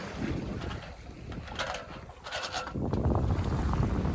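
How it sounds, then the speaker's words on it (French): A sailboat motoring into port under its genoa sail, with steady wind buffeting the microphone and the broad rush of water and hull noise throughout, surging louder toward the end. "Une rentrée au port sous voile de génois, donc je vais rentrer la grande voile."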